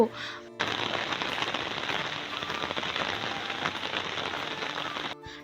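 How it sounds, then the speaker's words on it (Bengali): Heavy rain pours steadily in a dense, even hiss, close and loud, starting abruptly and cutting off near the end. "দেখো সেদিনকে সকালবেলা এত প্রচণ্ড পরিমাণে বৃষ্টি পড়ছিল"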